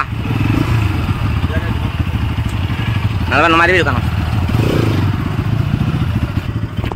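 A motorcycle engine runs steadily with a low, continuous rumble while the bike is turned around on a road trip in Northeast India, between Sonari-Soraideu and Changlang. Someone talks over the engine throughout.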